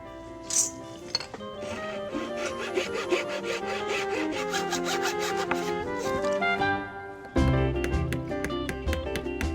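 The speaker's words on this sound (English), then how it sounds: "I'm going to cut out a slither of wood from one side of the horse's head and a slither of wood from the fresh piece of wood" A hand saw cutting a thin slither of wood for a repair to a wooden horse's head, steady rhythmic rasping strokes, close and loud, with a brief pause before a final burst of harder, faster strokes.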